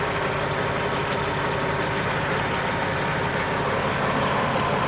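A Cat C15 diesel engine idles steadily after starting, a continuous low rumble at an even level with no voices, plus a brief sharper click just past the first second.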